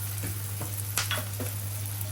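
Onions sizzle steadily in a hot pan, frying until browned, with a constant frying hiss broken by a few scraping stirs.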